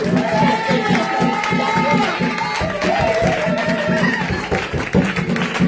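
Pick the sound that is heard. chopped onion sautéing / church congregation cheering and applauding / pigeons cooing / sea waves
church congregation cheering and applauding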